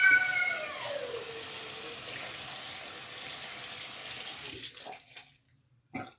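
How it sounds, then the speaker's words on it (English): Tap water runs steadily over soapy hands being rinsed of homemade tallow and milk soap, a close, even rush that cuts off after about four and a half seconds, followed by a couple of brief knocks. "All right, now try rinsing and see."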